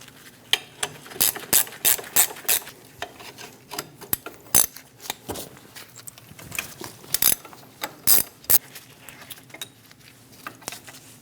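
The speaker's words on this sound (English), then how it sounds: "Using an 18mm wrench, remove the 2 bolts for the caliper." A ratchet wrench clicks in quick bursts of pawl ratcheting while an 18mm socket loosens the two brake caliper bolts on a 2001-2006 Chevrolet Silverado 2500 HD. The bursts are close and loud, separated by short pauses.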